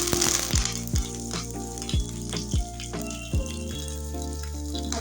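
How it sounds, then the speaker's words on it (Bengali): Mustard seeds, dry red chillies and curry leaves fry in a spoonful of white oil in a pan, a steady close sizzle with repeated sharp crackles and pops punctuating it, no voices. "ফোড়নটা ভালো করে ভেজে নিয়েছি বন্ধুরা"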